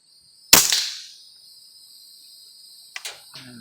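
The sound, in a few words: shot from a custom single-stroke pneumatic (SSP) air rifle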